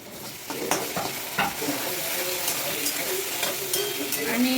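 Onion sizzles while being sautéed in a pan, with tomato to be added, a steady frying hiss broken by repeated stirring scrapes and clinks up close.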